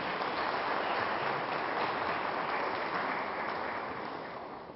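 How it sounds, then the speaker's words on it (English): An audience gives a guest speaker a dense, sustained round of applause at an evening event in St. Lucia. It holds steady for several seconds and tapers slightly at the end. "Let us give him a resounding round of applause for his successes"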